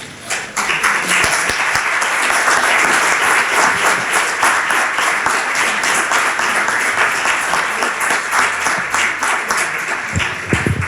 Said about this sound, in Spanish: la felicitación la he notado por el aplauso